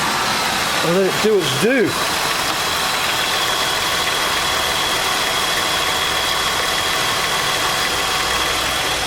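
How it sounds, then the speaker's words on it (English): A Holden VT 3.8 V6 with an overheating fault idles with a loud, steady, even drone throughout, and a person speaks briefly near the start. "We'll fire him up now."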